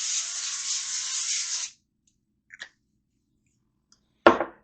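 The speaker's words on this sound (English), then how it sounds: "we are going to go ahead and spray the rack" An aerosol can of cooking spray sprays a baking rack in one steady hiss for under two seconds, followed by a couple of faint clicks and a sharp knock at the end.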